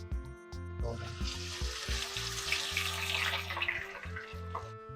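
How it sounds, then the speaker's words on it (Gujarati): Potato chips for French fries are dropped into hot oil for the first of two fryings and sizzle with a steady, dense, bubbling hiss. It is close and continuous, with a low hum underneath. "તો તેલ આવી ગયું છે, હલો ચિપ્સ નાખી દેવી ફટાફટ."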